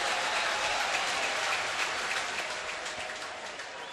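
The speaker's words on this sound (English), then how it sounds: "the fans giving him a nice send-off here" Baseball fans at a Mets game give Wilmer Flores a warm ovation, a broad, even roar of clapping and cheering that holds steady and eases slightly toward the end.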